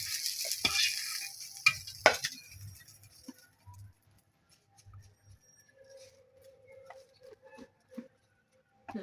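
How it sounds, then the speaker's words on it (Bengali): Cumin seeds frying in a pan, with a hissy sizzle early on that fades into quiet stretches, broken by faint taps, stirring clinks and a soft tonal hum. "জিরা ভাজলাম।"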